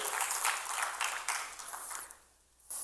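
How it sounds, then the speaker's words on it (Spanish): A church congregation claps and applauds together in a dense, steady wash of hand claps that fades near the end, with faint voices mixed in. "Dele palmas al Señor si se goza por ello."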